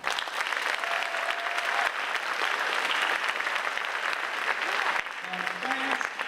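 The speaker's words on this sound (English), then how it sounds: "So parents, please join me in a round of applause again for our" A crowd of parents applauds graduates at an 8th grade bridging ceremony, dense continuous clapping filling the room for several seconds with a faint voice and brief tones near the end.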